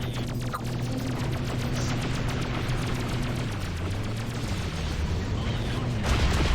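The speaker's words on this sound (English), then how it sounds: "Destroy the spinny thing. With my torpedoes." Torpedoes hit a spinning weapon platform in the Freelancer space game, a steady roar of rumbling fire and muffled blasts with a low engine drone throughout and a louder thud near the end.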